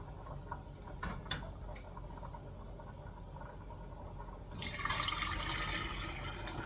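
Liquid poured while cooking salmon and kale soup, a quiet pour that starts partway through as a steady, close trickle, after faint kitchen clicks and ticks.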